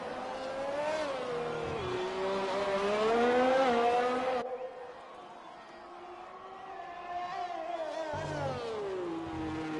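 Race cars howl around the Baku street circuit in a sim racing game, a high engine whine rising and shifting through gears, loud and close, then a cut to a fainter car revving on its own.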